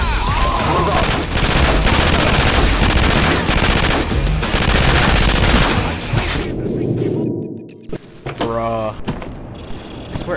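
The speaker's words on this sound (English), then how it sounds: "I swear, I shoot through these walls" Video game gunfire rattles in dense rapid bursts of automatic fire through walls, loud and continuous for about six seconds, then trails off into scattered mechanical clicks and a few isolated shots.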